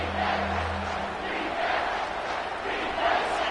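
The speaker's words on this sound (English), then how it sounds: "this crowd will blow out a vocal cord to help this defense" Roaring football stadium crowd on a third down, sustained dense cheering and yelling that swells and holds at full volume, with a low rumble under it and no single voice standing out.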